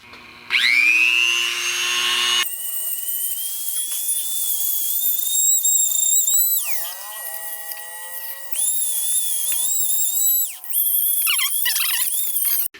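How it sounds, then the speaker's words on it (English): A Dremel wire brush scrubs white corrosion off three starter connectors on a BMW E38 740i, sounding as a high, steady whine that keeps shifting pitch in bursts. "I'm gonna wire brush with the Dremel"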